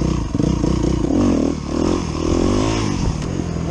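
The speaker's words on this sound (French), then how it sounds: "L'objectif de ce que je veux faire là, c'est de faire le wheeling le plus lent possible." A 125cc motorcycle engine drones steadily, close and loud, during a slow wheelie on a circuit, its pitch rising and dipping slightly as the throttle is held and eased.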